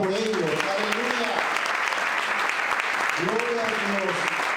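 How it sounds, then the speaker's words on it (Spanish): A church congregation applauds its first-time visitors, a continuous wash of clapping under which a voice speaks, rising and falling in a sung or chanted manner. "Den un aplauso al Señor por ellos."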